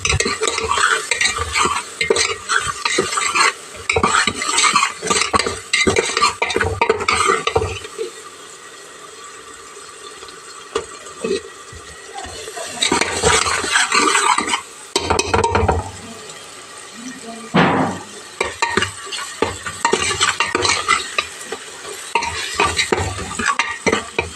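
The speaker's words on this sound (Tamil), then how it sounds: "வெங்காயம் நல்லா வதங்கட்டும் அதுக்கு வந்து லைட்டாக உப்பு போட்டுவேன்" Onions sautéing with salt and turmeric in a pan, close and loud with busy stirring and scraping over a sizzle, easing to a quieter sizzle in the middle before vigorous stirring resumes.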